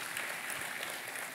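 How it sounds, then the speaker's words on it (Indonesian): A church congregation claps together in sustained, dense applause that stays steady and fairly loud throughout, with no voices standing out. "Kita kasih tepuk tangannya yang paling meriah buat Tuhan."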